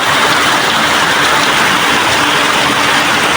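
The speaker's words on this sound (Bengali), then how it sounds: "আজকে চট্টগ্রামে প্রচণ্ড পরিমাণে বৃষ্টি হইতেছে" Steady, dense roar of heavy rain from Cyclone Remal pouring down at night in Chattogram, loud and continuous with no pauses and no voices.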